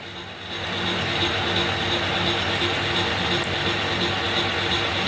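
A vintage metal lathe with its drive lever engaged and gears turning gives off a steady, dense mechanical whirr and clatter. It grows louder after the first second, then holds even and close, with no voices.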